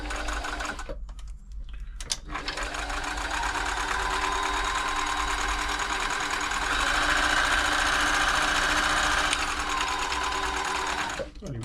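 A Riccar 8400 sewing machine stitches a triple zigzag, its needle mechanism running in a fast, steady mechanical chatter, close and continuous after a brief start-stop at the beginning.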